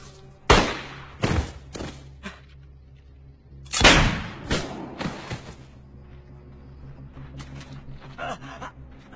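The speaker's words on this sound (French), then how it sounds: "J'ai entendu les coups de feu." Several loud gunshots ring out nearby, two clusters of sharp bangs a few seconds apart, followed by fainter scattered rustling.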